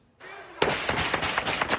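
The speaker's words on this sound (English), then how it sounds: "Gunmen opening fire in an intersection. Hundreds of bullets filling the air." Gunfire erupts at a street intersection in Beirut during protests: after a faint hum, a rapid, uneven string of loud cracks and bursts rattles on, some shots sharper and closer than others.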